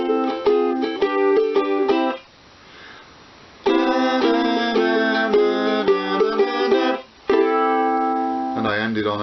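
Ukulele strums rock and roll outro chords at a faster tempo, bright and close, in bursts of rapid strumming separated by short pauses and ending on a final chord.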